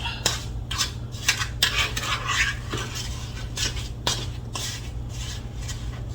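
A spoon stirs a berry mixture in a bowl, producing steady, repeated scraping and soft clinks in a close, continuous rhythm over a low background hum.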